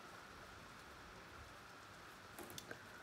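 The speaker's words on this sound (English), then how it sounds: "Sorry if you can hear the rain. It's like pouring down a lot right now." Steady, heavy rain hisses evenly throughout, with a few faint clicks and drips near the end; fairly quiet overall.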